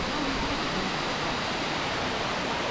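Waterfall in Malaysia, a steady broad rushing roar of falling water, even and continuous without pauses or voices.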